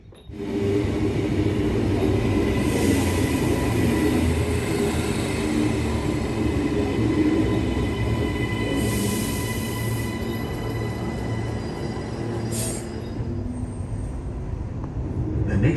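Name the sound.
Brisbane City and Gold Coast train running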